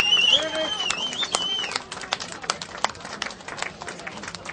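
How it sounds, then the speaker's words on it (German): Crowd applause and scattered clapping at the finish area of a running race in Schwerin, a dense patter of claps that thins out over a few seconds, heard at moderate distance. "So, ein Applaus nochmal, wie vorhin bei den Kindern gesehen."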